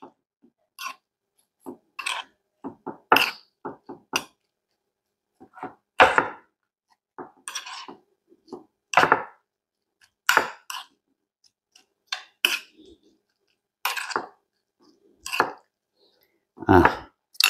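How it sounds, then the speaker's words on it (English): A side dish mixture with cayenne pepper stirred in a bowl, giving a series of close, sharp scraping and clacking strokes in irregular bursts separated by silence. "I'm going to stir this up."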